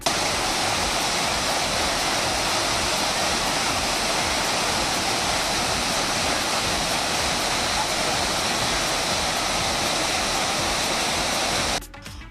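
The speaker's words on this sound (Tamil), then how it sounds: "இந்த அருவியில் தண்ணீர் கொட்டுகிறது" Thirparappu waterfall swollen by two weeks of rain, a loud, steady roar of pouring water close by, unbroken until a sudden drop at the very end.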